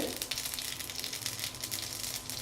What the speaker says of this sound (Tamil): கடுகு நல்லா வெடிக்கிறது.